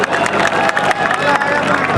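Spectators at a kabaddi cup final produce dense, continuous crowd noise with rapid clapping and cheering.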